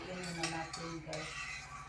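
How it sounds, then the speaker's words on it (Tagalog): Ground meat being stirred with egg in a pan: a few soft metallic scrapes and clinks of a utensil against the pan over a steady background hum, close but quiet. "haluin muna natin guys."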